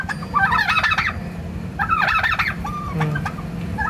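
Large domestic turkey gobbling close by, two rapid warbling gobble bursts about a second apart followed by a shorter call, with faint background noise and no talk.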